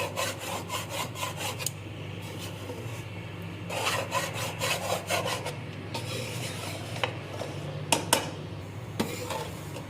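Chana dal roasting in a pan for halwa while being stirred continuously, giving repeated dry scraping and rasping strokes in bursts with short pauses and a few sharper clicks, close and moderately loud with no talking.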